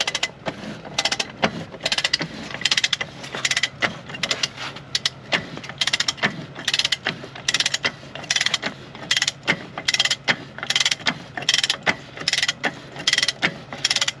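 Ratchet wrench tightening a hub nut to draw a hub onto a Stemco Guardian wheel seal, a rapid run of close, sharp clicking strokes in uneven bursts, heard alone without speech.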